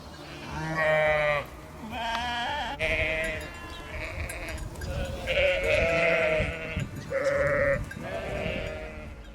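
Sheep bleating close by, a flock of several animals calling in repeated wavering cries with short pauses between them, loud and clear.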